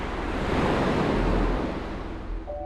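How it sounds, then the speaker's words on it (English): Ocean surf crashes and rolls nearby in one steady roar, mixed with some wind buffeting the microphone. "the waves are crystal clear and super clean"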